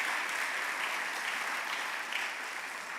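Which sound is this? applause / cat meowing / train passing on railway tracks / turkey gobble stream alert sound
applause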